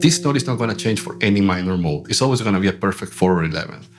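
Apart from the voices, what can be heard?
None of the usual background noises is heard.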